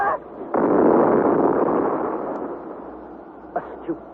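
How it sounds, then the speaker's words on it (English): A radio-drama explosion effect of a ball of fire bursting aboard a raft in a subterranean hurricane: a loud, sudden roaring blast that swells and slowly rumbles away, followed by two small pops. "and then suddenly the ball of fire bursts"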